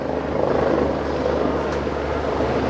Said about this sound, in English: The police helicopter is overhead as well, flying very low indeed.